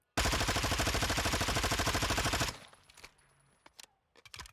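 Vaznev 9K submachine gun in a video game fired full-auto until the 30-round magazine runs dry: a loud, rapid, evenly spaced burst lasting over two seconds, then a few faint clicks and handling sounds afterward.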